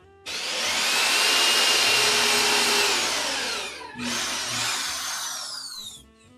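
A power drill drives screws into a table saw stand, whining loudly and steadily for a few seconds, stopping briefly, then running again before cutting off, close up with no talking.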